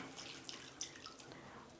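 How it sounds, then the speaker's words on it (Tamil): A thin stream of about half a cup of water trickles and splashes into a mixer jar, quiet and close, with a few small drips. "கொஞ்சமாக ஒரு அரை கப்பு தண்ணி மிக்ஸி ஜாரை கழுவி ஊற்றிக்குங்க"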